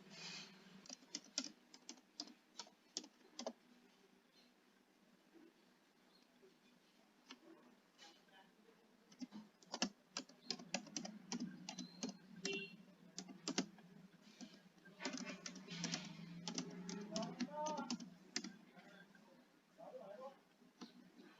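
Keystrokes on a computer keyboard as an address is typed into an online account registration form, coming in irregular bursts of clicks with a steady murmur of background noise throughout.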